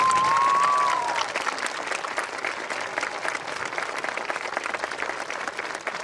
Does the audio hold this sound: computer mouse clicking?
no